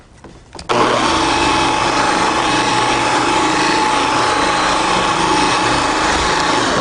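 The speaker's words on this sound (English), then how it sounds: "So low setting to spread it out, and then I'm going to start bringing up my speed" A Wolfgang car polisher spins up on a low setting to spread product, a sudden steady whine that stays loud and even after a brief quiet start, with no talk over it.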